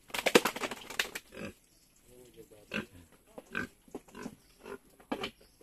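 A pig grunts in short bursts on a home visit, close by, while people talk around it.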